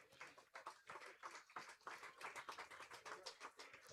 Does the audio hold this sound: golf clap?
yes